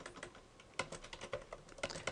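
Rapid keypresses punch numbers into a computer or calculator during a probability calculation, a quiet irregular run of clicky taps with a few louder strikes, no voices.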